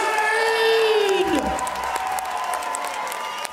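A crowd at a bare-knuckle fight event cheers and applauds, a broad, moderately loud wash of clapping and whoops beneath an amplified announcer's voice, with an electronic tone sweeping down early on.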